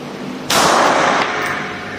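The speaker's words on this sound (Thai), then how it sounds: "ยิงด้วยมือซ้ายนัดที่สองครับ" A single sharp, loud 9mm pistol shot from a Sig Sauer P365 fired left-handed at a shooting range, a close crack that rings out and then decays into a lingering echo.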